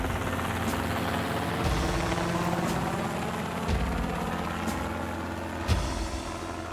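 Helicopter hovering during an ocean rescue, a continuous loud rotor-and-turbine drone with steady thumping beats, no talking.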